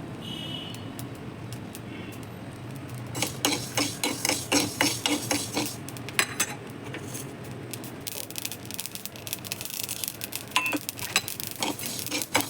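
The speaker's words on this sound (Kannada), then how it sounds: "ಸಾಸಿವೆ ಸ್ವಲ್ಪ ಚಟಪಟ ಆಗಬೇಕು" Mustard seeds roasting with fenugreek in a hot pan for North Karnataka style pickle, giving rapid irregular crackling pops and ticks that grow busier after a few seconds, faint and close.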